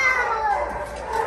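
Short, close meowing from cats, a couple of drawn-out cries overlapping over about a second.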